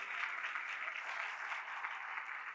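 Church congregation applauding during a Hindi-Urdu worship service, a steady wash of many hands clapping together, moderately distant and even throughout the short stretch.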